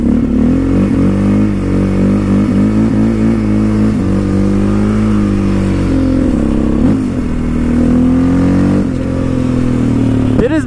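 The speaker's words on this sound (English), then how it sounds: "nice little backfire there" Yamaha Raptor 700 quad engine idling and revving loudly and close, a steady throaty drone with rising and falling pitch and a few sharp backfire pops, in a snowy outdoor setting.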